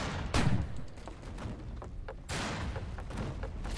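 Hand mortar blasts go off aboard an airship in a video game, setting off heavy booming explosions: a sharp burst near the start and another big rumbling blast later, with dense crackling fire between them.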